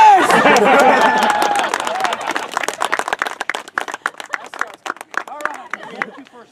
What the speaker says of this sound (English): I point that out so that way you people will clap